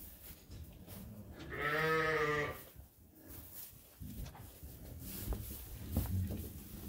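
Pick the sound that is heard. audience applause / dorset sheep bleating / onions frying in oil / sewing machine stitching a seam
dorset sheep bleating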